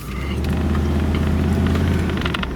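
A Cadillac Allante pulls away, its engine a steady, close mid-pitched drone with a low rumble throughout and faint tyre and road noise, no talk.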